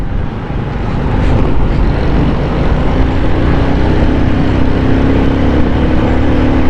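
A motorcycle is ridden fast through Karimabad in Karachi, producing a loud, steady roar of engine and road noise with heavy wind buffeting on the microphone throughout.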